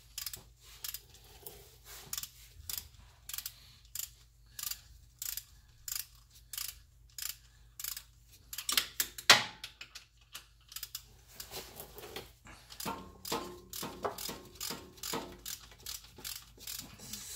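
A hand ratchet on a 2-inch extension clicks steadily while turning the top bolts during CV and mid shaft installation on a Honda Prelude, regular bursts of close ratcheting with no talk.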